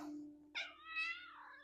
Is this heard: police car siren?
no